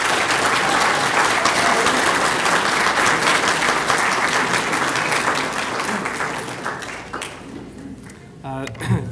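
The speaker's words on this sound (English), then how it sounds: "please help me welcome, and also by your applause" A synagogue audience claps loudly and steadily for the congregation's president, a dense sustained applause that gradually thins out and fades before a voice begins speaking at the end.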